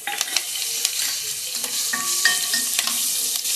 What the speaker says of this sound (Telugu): వీటిని చిన్నుల్లిపాయలు వేగేదాకా వేయించుకోవాలి.